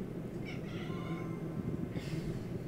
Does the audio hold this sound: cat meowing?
yes